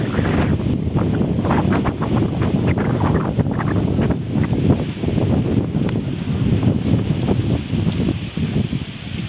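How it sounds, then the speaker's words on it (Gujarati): Strong wind blows across an open rural farm area, a loud continuous gusting roar buffeting the microphone throughout. "આ સાઈડથી પવન આવે છે"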